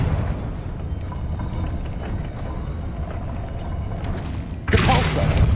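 A Confringo spell explosion in Hogwarts Legacy, a dense rumbling game soundscape that swells into a sudden loud burst near the end, with a voice heard over the action.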